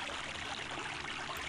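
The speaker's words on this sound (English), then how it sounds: "The waterfall rushes past, drowning out all other sounds here." Rushing waterfall in the Shannara video game, a steady broadband roar of falling water filling the scene evenly from start to finish, with no voices.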